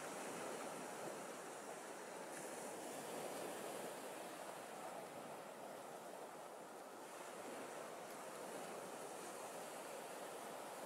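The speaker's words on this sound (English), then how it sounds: "This is what it's like when it rains. Just a light rain, but it feels so nice." Light rain falls steadily outdoors on a cool day, a dense continuous hiss that stays even and moderately loud throughout with no voices.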